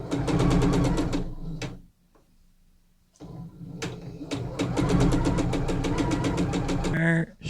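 A sewing machine stitches the shoulder seams of a dress at a 3/8 seam allowance, running in close, steady mechanical bursts with a brief pause midway and a short clatter at the end.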